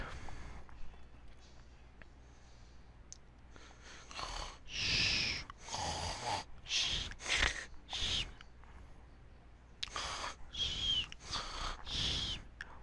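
A character voicing Butterfree snores in a Pokemon audio drama, a performer imitating the sound with a series of breathy, wheezing snorts and inhales that rise and fall over quiet background.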